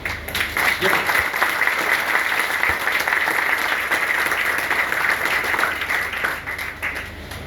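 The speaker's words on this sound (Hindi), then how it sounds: "आप लोग उनको यहीं से तालियों के गड़गड़ाहट वेलकम करिए।" Audience in a Chanakya Academy hall in Hazaribagh claps steadily in welcome, a dense, continuous round of applause that holds at an even level throughout.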